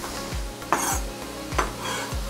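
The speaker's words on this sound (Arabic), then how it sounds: "قطع البصله بحال ما هكذا وغنديرها في المقله اللي ديجا كتسخن" Chopped onion going into a heating frying pan, with a sizzle under repeated scraping and stirring strokes and light clinks of a utensil against the pan, close and steady.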